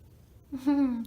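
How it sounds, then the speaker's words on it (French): A single short meow, close and clear, rising then holding with a bright harmonic tone before trailing off. "Pourquoi tu miaules comme ça?"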